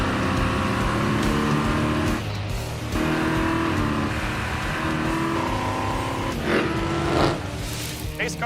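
A race car roars down the strip in a drag race, a loud sustained engine drone with shifts in pitch and a swell near the end, while a voice talks over it.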